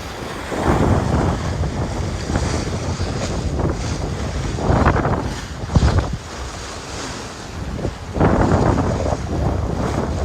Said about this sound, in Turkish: Çok güzel bir rüzgar yakaladık.